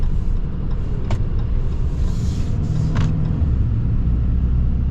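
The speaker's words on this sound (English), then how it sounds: "But we'll get our full-blown acceleration here." A 2024 Ram 3500 Limited heavy-duty pickup at full throttle, a steady loud low engine rumble heard from inside the cab, with a couple of brief clicks and no speech.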